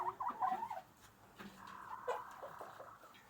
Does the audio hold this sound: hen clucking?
yes